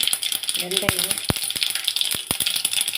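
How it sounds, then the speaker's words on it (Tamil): Mustard seeds popping in hot cooking oil while tempering for a mackerel fish curry, giving a dense, steady crackle of quick pops and sizzle throughout, with a few sharper louder snaps standing out close by. "இப்போ இதில் கடுகு போட்டுப்போம். கடுகு நல்லா பொரிஞ்சது."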